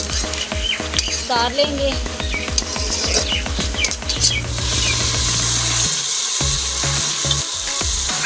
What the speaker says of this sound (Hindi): अब इसमें हम घी डाल के इसको फ्राई करेंगे, जब तक हमारे ये देखें प्याज ये बिल्कुल फ्राई हो चुके हैं।